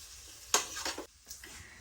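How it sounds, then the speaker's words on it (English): Bacon frying over low heat in a pan for sautéed winter vegetables gives a soft, steady sizzle, with a brief louder burst of crackling as it is stirred, then settling back to a quiet hiss. "You want to cook this bacon on a low heat so it doesn't burn before the fat renders out"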